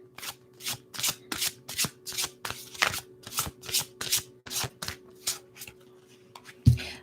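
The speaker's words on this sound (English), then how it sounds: "Let's take out one more card." Tarot cards shuffled by hand in a steady run of about a dozen crisp riffling bursts, close and fairly loud over a faint steady hum, ending with a soft knock.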